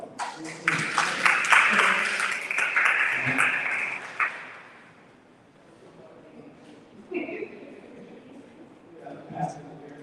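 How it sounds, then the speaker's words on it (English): A meeting room full of people at a West Side ministers' coalition networking gathering breaks into loud applause that swells for about four seconds, then fades into scattered claps and murmuring voices. "everybody give yourself a great big round of applause"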